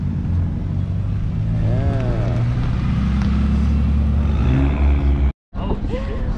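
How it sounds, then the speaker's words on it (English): Cars rolling into a BMW car meet, engines idling and revving nearby with a low rumble throughout, amid outdoor crowd noise and people talking. "Cars are still rolling in"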